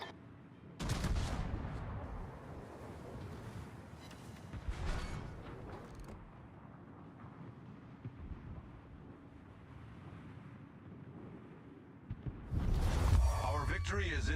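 Heavy naval guns from warships in World of Warships fire in broadside salvos: deep, booming blasts in a few separate bursts, a loud one at the start and another near the end, with low rumble between them.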